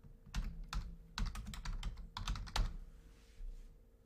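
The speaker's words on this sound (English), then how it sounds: "you can just start typing that stuff in here." Quick bursts of keyboard typing, keys clicking in short uneven runs with brief pauses, close and fairly quiet.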